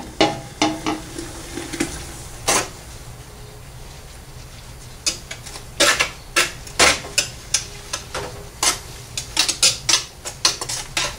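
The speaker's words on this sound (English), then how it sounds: "I'm going to add my washing soda, and I'm going to stir that in." A spoon stirs washing soda into dissolved soap for homemade laundry detergent, giving a series of sharp clinks and scrapes against the container, sparse at first and then quicker and more regular, close up with no talk.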